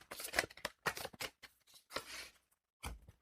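A tarot card pulled from the deck: several quiet papery shuffling and sliding bursts of card stock, close and soft, followed by a brief pause and one final snap of a card.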